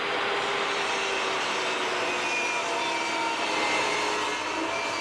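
A power saw runs steadily through a 12mm pine plywood sheet, a constant loud whining buzz with no breaks, close up and without talk.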